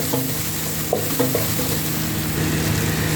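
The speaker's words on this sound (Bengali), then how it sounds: "দেখেন আমার মশলাটা সুন্দর করে ভাজা হয়েছে।" Coriander and cumin spices with red chili frying in a pan for a rice dish, giving a steady close sizzle with a few scraping stirs near the start and no talk.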